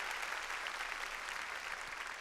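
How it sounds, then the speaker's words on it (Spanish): Church congregation clapping loudly and steadily during a sermon, a dense continuous wash of applause filling the space with no voices on top. "démosle palmas fuertes al Señor"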